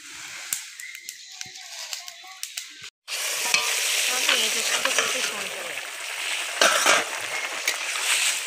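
Food fries and sizzles on an outdoor clay stove while jackfruit and potatoes are prepared, with scattered clinks first, then a steady loud sizzle with stirring and occasional utensil knocks, faint voices around.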